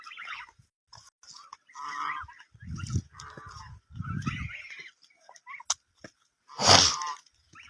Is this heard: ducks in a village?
yes